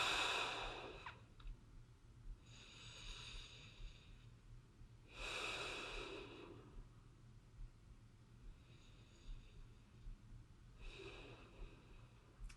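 Deep, airy breaths during a core strength exercise, about four long inhales and exhales at a slow, even pace with a few seconds between them, close and fairly soft over a low background hum, with no talking.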